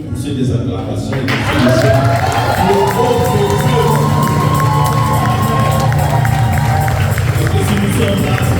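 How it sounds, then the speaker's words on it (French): A church congregation at a worship service cheers and shouts acclamations, a loud sustained crowd roar with raised voices that swells after the first second and holds steady throughout. "Est-ce que tu peux pousser des acclamations"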